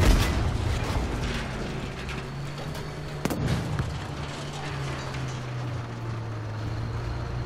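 A tank in Battlefield V under enemy fire, its engine rumbling low and steady while a sharp impact cracks through near the middle and mechanical clanks and scattered hits sound around it.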